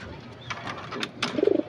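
A pigeon gives a short, soft burst of cooing close by near the end, after some faint rustling and low background noise.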